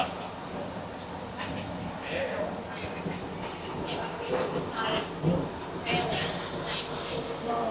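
Train running at a Riverfest display in Innisfail, Australia, a low steady rumble with faint clicking, heard under nearby people chatting.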